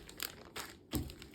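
A plastic bag holding an old scrapbook crinkles and rustles in a few short handling bursts, close and fairly quiet.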